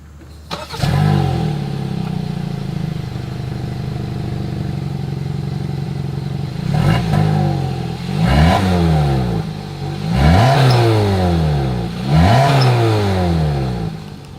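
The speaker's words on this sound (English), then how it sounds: "As always, here is that exhaust clip." A 2023 Hyundai Tucson idles with a steady low rumble at the exhaust, then gets revved several times, each rev climbing sharply and dropping back, loud and close.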